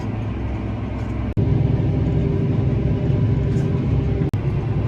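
John Deere 6250R tractor pulling an Actisol implement through silty loam at about 8.5 km/h, a steady loud low engine drone that holds throughout with two brief dropouts.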